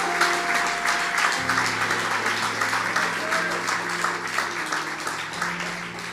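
Church congregation applauding in praise during a sermon, a dense sustained wash of clapping over several seconds with a faint held musical tone underneath.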